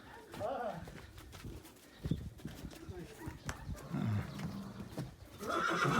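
A draft horse whinnies amid clip-clop hooves and farmyard noise, with people talking throughout at close range.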